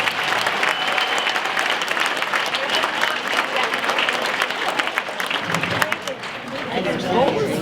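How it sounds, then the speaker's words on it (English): Crowd applause at a resident holiday party in a decorated clubhouse, dense sustained clapping from many people, loud and close, with some voices mixed in. "So I want to give them a big round of applause as well."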